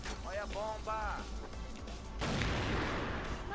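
A bomb goes off in the video game CrossFire, a loud, broad blast that swells and rumbles for over a second after a stretch of game voices and muffled gunfire.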